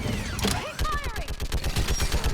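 Rapid gunfire rattles through a battle on Thessia in Mass Effect, a steady stream of short bursts with whooshing weapon effects sweeping across the mix and a voice briefly calling out.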